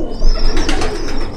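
Imported red-eyed pigeons in a breeder's loft coo loudly and close, a continuous throaty rolling coo with a faint higher whistle over it.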